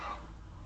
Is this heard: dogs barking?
yes